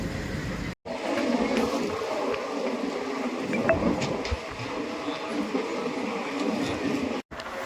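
A Mysore-bound train rumbles along a parallel track in a steady, continuous roar with faint rattling, heard close by without a break.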